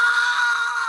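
A voice imitates a loud, high-pitched horror-film style scream, a single sustained shriek held strong and steady for about a second.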